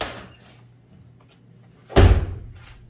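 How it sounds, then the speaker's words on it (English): An old car door in a Kansas barn collection of vintage Ford and other cars and trucks is shut with a single solid thud, preceded by faint clicking and handling sounds in a quiet setting. "Love the way the car doors open and close."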